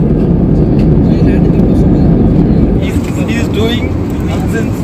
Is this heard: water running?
no